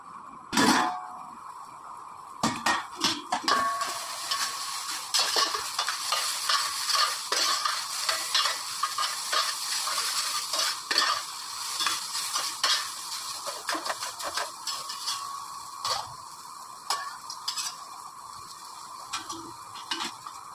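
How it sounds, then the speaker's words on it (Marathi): Taro leaf bhaji (aluchi patal bhaji) stir-fried in a pan, a continuous soft sizzle with steady scraping and stirring strokes throughout, close and fairly even in loudness. "असं परतत शिजवायचं"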